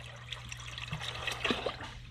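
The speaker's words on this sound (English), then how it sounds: "So start pouring" Water trickles and splashes as it is poured into VP Racing M5 methanol to mix a water-methanol boost blend, a short, soft, close pour with a low hum underneath.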